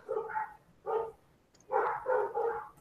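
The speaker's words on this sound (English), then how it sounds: "I would kill those fucking dogs, Brockus." Dogs bark in short bursts, one bark, then another, then three quick barks close together, fairly near and clear with quiet between, no talking.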